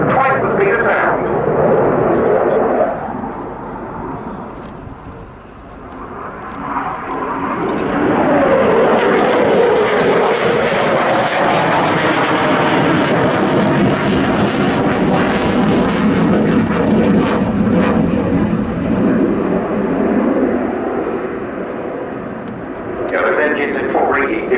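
Jet aircraft with engines in full reheat roar past at the RIAT air show, a loud broad rushing roar that swells and sustains for long stretches, with a commentator talking throughout.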